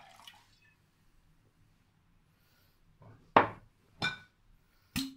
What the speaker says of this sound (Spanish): Ponemos un poco de líquido.